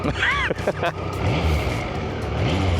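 A steady idling rumble from a 1999 Triumph Trident 900 motorcycle engine runs throughout, low and continuous, with a voice talking briefly near the start.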